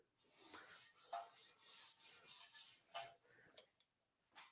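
Sanding on a tank surface being checked for damage, a series of uneven rasping strokes, close and moderately loud, with short pauses between passes and a quieter stretch near the end.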